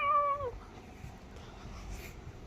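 A single short cat meow rings out near and clear at the very start, a house cat in an indoor room, then only faint room noise follows.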